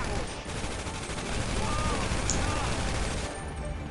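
Gunfire in a PS4 video game, with dense bursts of rapid shots and explosive fire running through the whole stretch at a loud, fairly even level.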